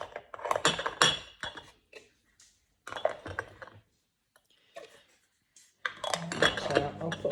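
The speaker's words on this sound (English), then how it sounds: "Put the lids back on." Plastic lids clicking and snapping back onto homemade yogurt containers, with clattering handling noises in uneven bursts separated by quiet gaps.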